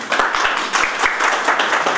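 An audience in a hall applauding the printer, Mr. Ciobanu, with dense, steady clapping from many hands, close and fairly loud, and a few sharper individual claps standing out.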